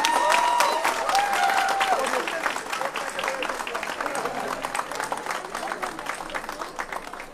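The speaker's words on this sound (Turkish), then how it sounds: "Alkışlar kesilmesin." Wedding guests keep up sustained applause, a dense, steady clatter of many clapping hands with scattered voices and a faint tone early on, gradually easing slightly in loudness.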